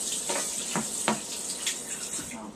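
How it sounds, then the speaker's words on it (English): Fresh cilantro rinsed under a running kitchen tap, with short splashing bursts of water hitting the leaves and sink, close and fairly clear with no talk. "Let me rinse this off real quick."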